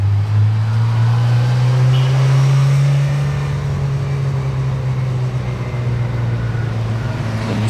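A Ford Mustang rolls along a Paris street lined with autumn leaves, its low engine drone steady and fairly loud throughout, with a faint rise and fall as it passes amid surrounding traffic.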